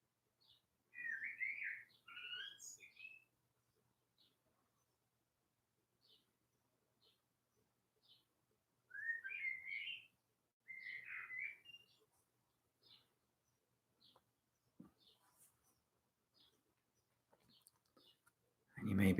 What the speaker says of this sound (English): I have a very chatty bird just outside the window.